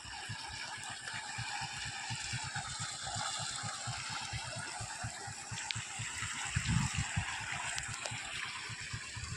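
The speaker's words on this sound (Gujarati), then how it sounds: "જો મિત્રો અહીંયા કેટલું મસ્ત પાણી જાય છે નેરનું." Canal water runs steadily past an open sluice gate beside farm fields, a continuous rushing wash with low gurgling underneath and a brief louder surge midway, heard alone without talk.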